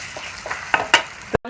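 Spiced masala fries in oil for a fish curry, making a soft, crackling sizzle broken by several sharp spoon scrapes and knocks that grow louder before the sound cuts off abruptly.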